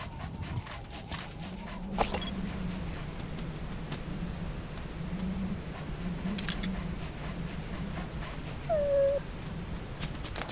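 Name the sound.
dog whimpering in video game Metal Gear Solid 5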